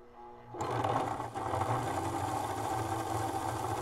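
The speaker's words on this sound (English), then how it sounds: "You just hear how smooth this engine is now." A freshly greased O gauge model diesel locomotive motor starts up after a brief quiet moment and runs slowly with a smooth, steady electric hum and whir, close and fairly quiet, with no voices.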